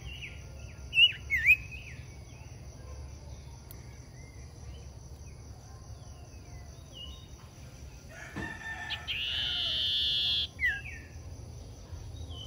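A caged bird gives a couple of short calls early on, then a sustained high call later, over a quiet background with a steady insect-like hum.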